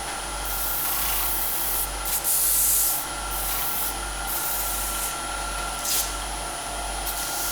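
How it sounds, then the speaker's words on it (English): A turned wooden box with a thread is hand sanded on the lathe, a steady soft hiss of abrasive rubbing over the spinning wood with the lathe's continuous hum beneath, no talking. "I'll just hand sand the small detail."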